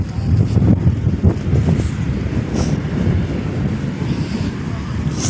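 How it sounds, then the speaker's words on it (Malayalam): Strong beach wind buffets the microphone in heavy, uneven gusts with a low rumble, and surf and the sea sit underneath throughout. "നല്ല കാറ്റ്."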